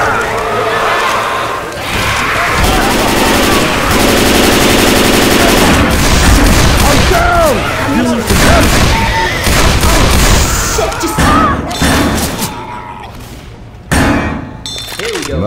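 Loud, dense automatic gunfire in the zombie shooter Left 4 Dead 2, several weapons firing in overlapping bursts with booms and thuds, nearly continuous and fading toward the end.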